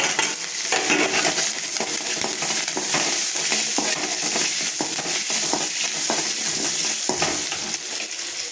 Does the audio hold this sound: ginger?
yes